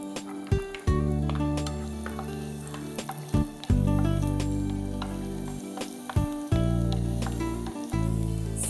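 Ginger, garlic and onion frying in hot coconut oil give a steady close sizzle, with loud bursts as each ingredient hits the pan and light stirring scrapes throughout.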